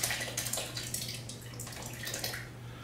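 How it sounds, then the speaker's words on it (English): Buttermilk pours into a raspberry scone mixture in a bowl, giving a continuous soft splashing, trickling liquid sound, close by and steady, over a faint low hum. "And then into that I'm going to pour our buttermilk."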